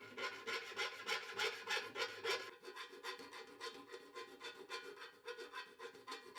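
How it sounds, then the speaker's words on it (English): Hand file rasping steadily across a Suzuki motorcycle frame, reshaping it so a Honda brake master cylinder mount lines up; close, rhythmic back-and-forth strokes, heavier at first then lighter and quicker, with no talking. "a little bit of filing, so that way the bottom mounting hole lines up"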